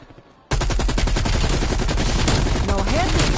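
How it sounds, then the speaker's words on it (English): Light machine gun firing in Call of Duty Cold War zombies mode, a loud sustained burst of rapid automatic shots that starts abruptly after a quiet moment and rattles on steadily, with a faint whistling tone late. "Light machine gun equipped."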